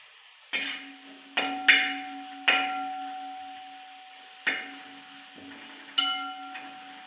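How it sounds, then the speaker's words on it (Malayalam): A spatula knocks against a pan of homestyle chicken curry six times in an uneven rhythm, each knock leaving a fading metallic ring over a faint background, with no voices. "ഇനി ഇതാ തുറന്ന് നമുക്ക് നല്ലപോലെ ഇളക്കി കൊടുക്കാം"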